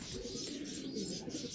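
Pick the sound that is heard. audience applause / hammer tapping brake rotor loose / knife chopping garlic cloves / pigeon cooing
pigeon cooing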